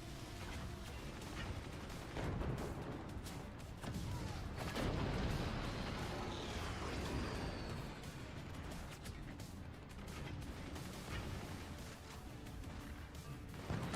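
Distant machine gun and mortar fire in the strategy game Forts comes as rapid bursts of shots and muffled booms, the rumble rising and falling at low volume.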